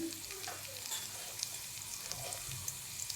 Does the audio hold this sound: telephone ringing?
no